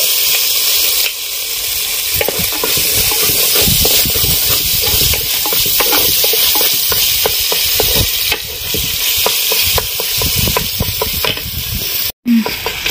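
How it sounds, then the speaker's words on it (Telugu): Ginger and garlic paste fries in a pan until browned for a chicken feet curry, a loud, dense sizzle with rapid crackling and stirring, briefly cutting out near the end. "దోరగా వేయించుకోవాలి బ్రౌన్ షేడ్ వచ్చేంత వరకు"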